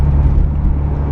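A Toyota MR2 SW20 Turbo drives along, its engine a steady, close, low droning hum heard from inside the car for a brief moment, with no talking.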